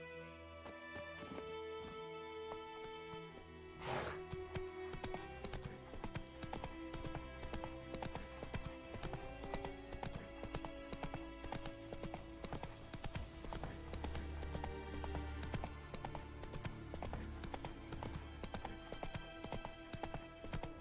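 Roach the horse gallops in The Witcher 3, rapid rhythmic hoofbeats pounding steadily for about twenty seconds under layered game music, with a brief faint vocal early on.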